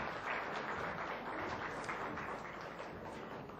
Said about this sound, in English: Can we clap for Mr. Mohammed Maqbool, Saab?